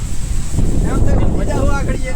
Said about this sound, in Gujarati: પવન એવું આવે ને